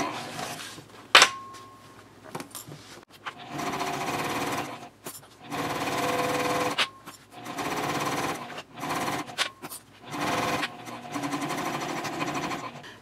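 Domestic sewing machine stitching a straight seam with a 3.5 stitch length across the bottom panel of a Swoon Maisie bowler bag, with back stitching at both ends; loud close bursts of rapid whirring separated by short pauses.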